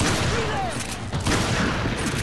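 Gunfire from a shotgun in the video game Resident Evil 5, with loud repeated blasts and cracks packed densely into a busy, continuous game soundscape, plus a faint voice in the background.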